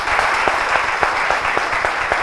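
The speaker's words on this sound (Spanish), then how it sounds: "un gran aplauso para el profesor Selman" Audience clapping for professors at an academic ceremony, a brief, loud burst of many hands with a few sharper individual claps standing out, no talking.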